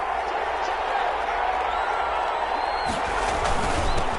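Stadium crowd roars in a PS4 football game, a loud, sustained wash of cheering and noise with a few sharper bursts near the end.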